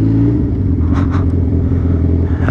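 Suzuki B-King motorcycle exhaust rumbling loudly and steadily up close, with a couple of brief revving surges in the middle, no talking.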